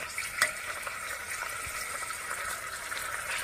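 Cumin seeds fry in hot oil for a tadka with continuous sizzling and crackling, and a spoon scrapes and stirs the pan now and then. It plays close and alone, with no talk.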